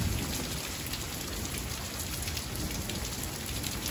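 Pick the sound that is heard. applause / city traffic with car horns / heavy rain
heavy rain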